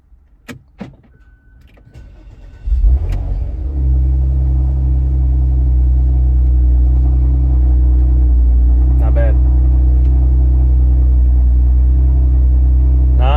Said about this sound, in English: Let's go ahead and get a cold start.